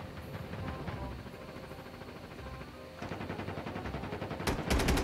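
Rapid automatic gunfire in a battle royale-style video game, sustained bursts rattling throughout and growing denser and louder toward the end, with no clear speech.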